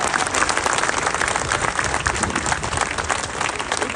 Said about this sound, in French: Je vous demande d'applaudir mon ami Stéphane Cherki, maire de Èze.